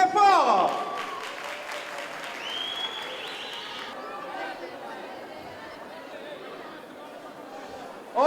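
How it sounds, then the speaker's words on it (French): Audience applause and crowd chatter at a street dance show final, a steady wash of clapping and voices with a brief tonal whistle or music at the start, continuing at moderate level throughout. "On l'applaudit très fort."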